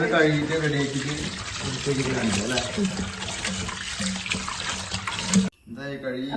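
Water runs steadily from a tap over meat being washed while someone speaks over it, the flow cutting off abruptly near the end.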